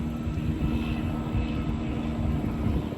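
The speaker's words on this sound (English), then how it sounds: "I got a helicopter flying above me" Helicopter flying overhead while someone is out fishing, a loud continuous engine and rotor roar that stays steady throughout.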